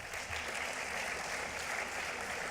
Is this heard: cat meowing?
no